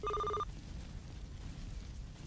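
A telephone in the Run Pizza Run video game gives a single loud electronic ring burst at the start, then cuts off, leaving a low rumbling game background.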